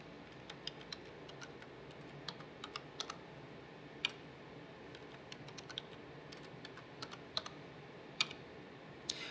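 Keys tapped on a computer keyboard while a password is entered, a quiet, irregular run of light clicks scattered over a soft room hiss, with no talking.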